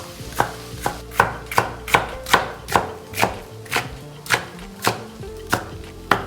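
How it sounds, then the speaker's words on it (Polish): A knife cuts bell peppers into strips about half a centimetre thick on a board, giving a steady run of about fourteen crisp, evenly spaced chops, close and clear with no talking. "Odcinam i kroję w takie paski mniej więcej pół centymetrowej grubości."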